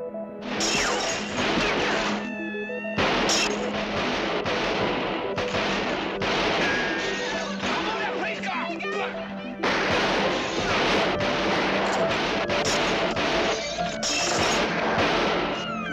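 A film gunfire shootout: repeated sharp shots and crashing impacts in dense clusters, broken by brief pauses, with music and a voice mixed underneath across the whole stretch.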